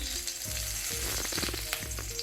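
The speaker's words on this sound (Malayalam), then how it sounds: "വഴുതിനങ്ങ ഒന്ന് വഴറ്റിയെടുക്കണം വേണ്ടത്ര വെളിച്ചെണ്ണ ഒഴിച്ചു കൊടുക്കുന്നുണ്ട് കറിവേപ്പില ഇട്ട് കൊടുക്കുന്നുണ്ട്" Brinjal sautéing in coconut oil with curry leaves in a Kerala-style kitchen, a steady close sizzle with soft stirring scrapes and faint background tones, no talking.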